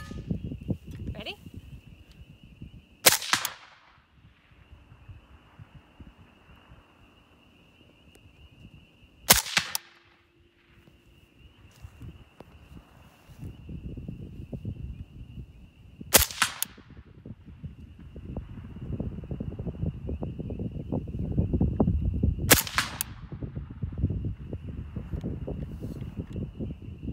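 Suppressed gunshots from a rifle fitted with an RMS2 HOPAII suppressor, four sharp muffled cracks spaced several seconds apart, with low rumbling background noise and shuffling between them.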